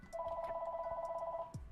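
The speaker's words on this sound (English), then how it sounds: "That is a phone, and it is ringing." A telephone rings once with a steady electronic double tone, faint and slightly distant over a low room hum.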